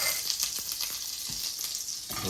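Fennel seeds, fenugreek and cumin sauté in hot oil in a pan for a squid curry, giving a steady, close sizzle with faint scraping stirs and no talking.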